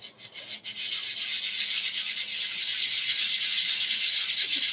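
RC truggy tires rubbed across 100-grit sandpaper laid on a small flat piece, giving a steady close scratchy rasp that rises and continues for several seconds with rhythmic strokes.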